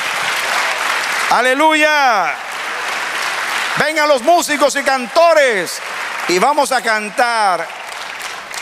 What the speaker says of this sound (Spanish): Dale un aplauso al Señor, amén.